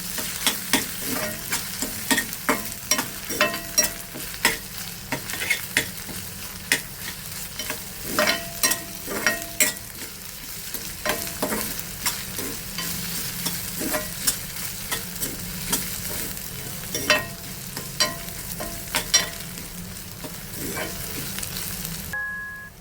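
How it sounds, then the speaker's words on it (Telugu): Ginger garlic paste frying in a pan for mutton kheema, a steady close sizzle broken by frequent scraping stirs across the full length, with no talking. "అల్లం వెల్లుల్లి పేస్ట్ వేసేసి పచ్చివాసన పోయే వరకు వేయించుకోవాలి"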